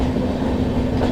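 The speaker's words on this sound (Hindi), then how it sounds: "अयोध्या कैंट एक्सप्रेस किसी ट्रेन को ओवरटेक कर रही है या शायद से क्रॉसिंग है" The Ayodhya Cantt Express on the Delhi to Ayodhya route, overtaking or crossing another train on the tracks: a steady, loud rolling rumble with a constant hum, no voices.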